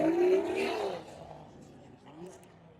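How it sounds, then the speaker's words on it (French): A BMW revs loudly at a drag and drift track, the engine note swelling then fading away, with people talking over it. "Ça, c'est une BM."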